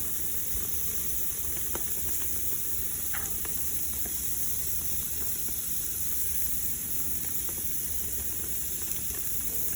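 Green chile burger patties sizzling on a covered grill, a constant loud frying hiss and crackle with scattered small pops throughout.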